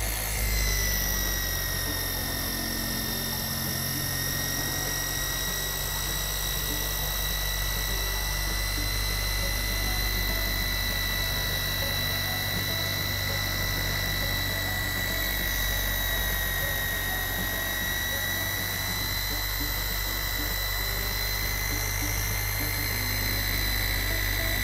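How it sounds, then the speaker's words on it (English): A Porter Cable polisher runs continuously at speed setting 5 to 6 while working polish over a car's paint, producing a loud, steady, high-pitched motor whine with a constant low hum, close and uninterrupted for the whole stretch. "I'm going to start at setting number 5 on the Porter Cable, and then as I work the polish over the area, then I'll bump it up 1 notch to speed 6"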